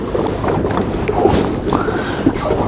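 A sailing boat on Lake Windermere at the start of a boat race, with water washing against the hull and wind buffeting the microphone in a steady close rush.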